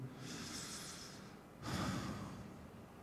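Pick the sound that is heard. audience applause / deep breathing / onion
deep breathing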